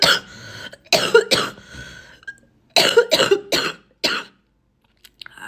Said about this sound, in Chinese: 然后咳嗽还厉害